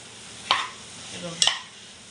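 A spoon stirs hyacinth bean (val) vegetable cooking in a pan, giving two brief scraping strokes over a faint background sizzle, close up and with no talking.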